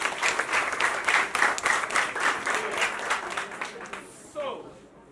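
A group at a CPR and choking first aid awareness session claps for themselves, a dense burst of many hands lasting several seconds before fading, with a voice briefly heard as it ends.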